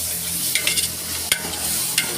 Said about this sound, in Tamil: இப்போ இந்த தக்காளியும் வெங்காயமும் உங்களுக்கு வந்து வதங்கணும், நல்லா வதங்கணும்